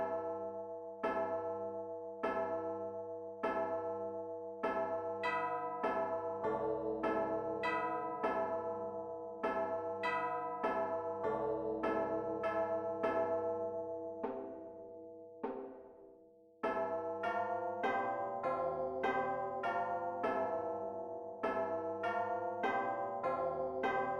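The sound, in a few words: church bells ringing with slow timpani in game music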